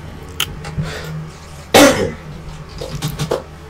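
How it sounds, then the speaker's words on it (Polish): A single sharp cough bursts out near the microphone, loud and brief, with softer breathy noises and faint background hum around it during a Minecraft gaming session. "Jak kaszle, to mam nadzieję, że wam nie przeszkadza."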